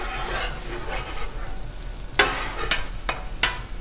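Eggs frying on a Blackstone griddle, a steady hiss of sizzling with several sharp spatula taps and scrapes on the flat-top near the end, close and moderately loud without speech.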